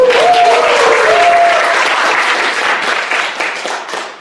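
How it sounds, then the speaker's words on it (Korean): Audience applause in a speech and voice-training class, loud and dense clapping right from the start that holds steady and then tapers off slightly toward the end. "여러분 박수 한번 보내주세요"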